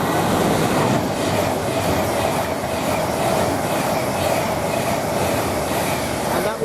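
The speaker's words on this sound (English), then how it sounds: "we've got another train coming through here now" A train runs through Milton Keynes Central railway station, its steady, loud rumble and rail clatter continuous throughout with no talk.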